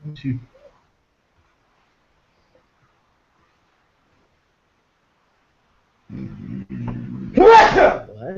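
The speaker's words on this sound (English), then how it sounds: "I sneeze like an 8-year-old princess." A single human sneeze bursts out after a few seconds of near silence, preceded by low rustling and murmuring, loud and close.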